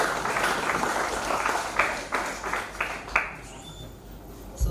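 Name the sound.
audience applause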